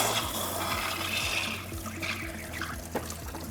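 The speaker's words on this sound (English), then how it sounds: "Let's go ahead and drain this out." Water gushing and trickling out of an Electro Freeze pressurized soft-serve machine as it is drained after sanitizing, a steady close flow that eases off partway through, with a couple of small clanks near the end.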